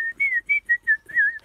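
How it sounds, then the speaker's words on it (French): A person whistles a short tune alone at night to feel braver, in clear, close, phrased notes: five or six bright whistled bursts, the last one bending and sliding in pitch. "on sifflote pour se rassurer, pour éloigner les monstres"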